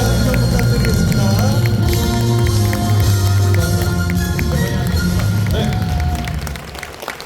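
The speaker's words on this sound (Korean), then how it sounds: "뜨거운 박수 부탁드리겠습니다" A lecture audience applauds to welcome an economics professor onto the stage, a continuous rush of clapping mixed under loud stage music that tapers off near the end.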